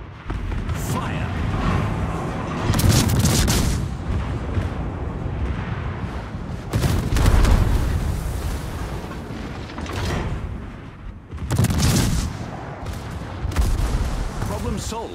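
Warship guns firing in a naval combat video game, heavy booming salvos in repeated bursts of several shots, loud and close, with rumbling between volleys.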